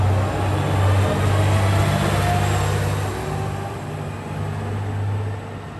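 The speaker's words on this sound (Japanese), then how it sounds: "お世話になった列車を見送ります" A one-man local train pulls out of Itoigawa station bound for Naoetsu, a steady low rumble and hum of the departing railcar close by, swelling slightly then holding, with no voices.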